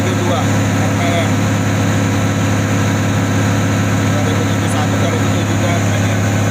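Engine of a Komatsu D85-3 bulldozer running steadily at about 2070 RPM, a loud, constant low droning hum with a strong tonal rumble and no change in pace across the whole stretch.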